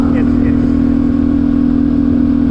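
A Honda CT 142cc motorcycle fitted with a big bore kit drones at a steady, loud idle-like hum close by on a mountain ride in northern Thailand, the engine tone holding constant throughout.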